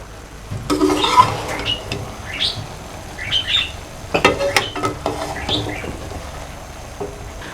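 A spoon stirs cooked vegetable pulao rice in a pot, giving soft scraping strokes in irregular bursts with brief pauses between them, close and moderately loud.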